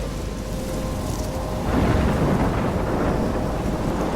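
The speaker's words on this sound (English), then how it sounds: "I'm trapped in a storm?" A thunderstorm in the Life Is Strange video game, with steady rain and wind that swell into a louder, rumbling roar partway through and then hold, with no talk.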